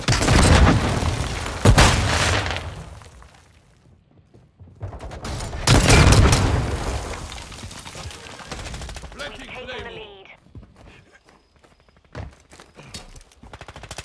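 In Call of Duty: Modern Warfare 2, heavy explosive blasts and gunfire burst out loud and close, two big booms several seconds apart with rumbling tails, followed by quieter clatter and a brief voice.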